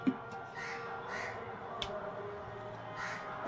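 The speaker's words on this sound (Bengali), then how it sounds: "কাকটা এসছে, কাককে দিয়ে দেবো।" Crows caw several times, spaced a second or so apart at moderate distance, in a quiet outdoor setting with faint background noise.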